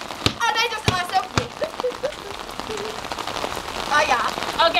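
Steady rain falling outdoors on a basketball court, a continuous hiss of drops on the surface running under chatty voices of people talking nearby.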